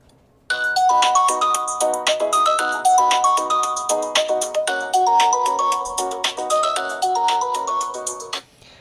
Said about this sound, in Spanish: vamos a poner el tono de llamada